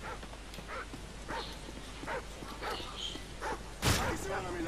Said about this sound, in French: Attention des chiens, ah, proche de votre position